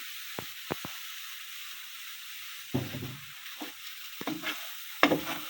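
Panch phoron spices dropped into hot oil while making a red amaranth leaf pickle, giving a steady low hiss with several sharp crackles and short bursts of spluttering, close by and with no voices.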